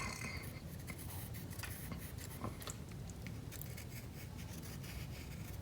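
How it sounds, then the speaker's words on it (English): Pen or marker writing a rocket number on the inside of a cardboard rocket tube, a steady close scratching rub throughout with small rustles, no talk. "write it on the inside of the tube"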